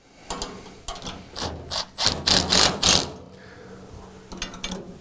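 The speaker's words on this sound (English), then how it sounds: "We got a ratcheted wrench here." A ratchet wrench clicks in short bursts while it tightens bolts on a unit heater hanging bracket. The bursts are close and loud, separated by brief pauses, with a few knocks of metal.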